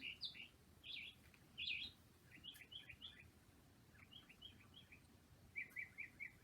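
A mimicking songbird sings alone, copying other birds' songs and calls: a rapid string of varied high chirps, whistles and trills, shifting pattern every few notes, fairly faint over a quiet background.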